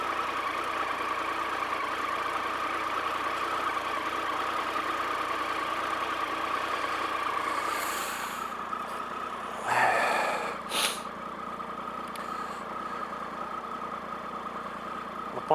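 A warm motorcycle engine idles in neutral with a steady low chugging throb, close and continuous, briefly broken by a couple of short bumps and clatters partway through, without any talk.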